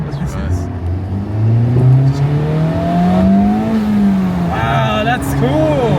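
Honda VTEC engine in a drag race between an NSX and a Civic Type R revs hard as it accelerates, a loud rising engine whine heard from inside the car, with people talking briefly near the end.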